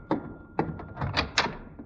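Several hollow knocks on a door, in an old radio comedy scene: about six raps in an uneven rhythm, close and fairly loud, with no talking.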